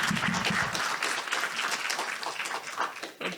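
A round of applause from the audience at the opening of a political summit, dense steady clapping that stays loud throughout before thinning slightly at the end.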